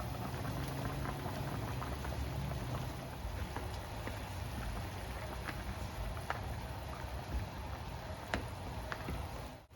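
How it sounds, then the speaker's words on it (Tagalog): Pork caldereta stew in a covered pot coming to a boil, a dense, continuous bubbling simmer with faint scattered pops, steady and close throughout. "Kumukulo na."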